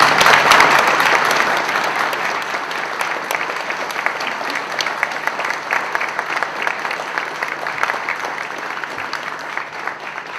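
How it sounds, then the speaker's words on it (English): A room full of people applauds in thanks, with sustained, dense clapping that starts loud and settles into a steady, slightly softer roar over ten seconds. "If right now we could have all of you applaud and give a special thank you for all the people that we just named."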